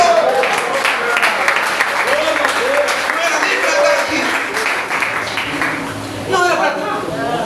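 A church congregation applauds in a steady, moderately loud patter that runs throughout, while a preacher speaks over it.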